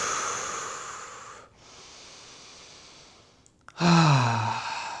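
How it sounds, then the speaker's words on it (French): Slow, deep breathing in a guided relaxation: a long airy inhale, a quieter hold and release, then a strong sighing exhale, close to the microphone with no speech. "tu peux prendre juste avec moi 3 respirations"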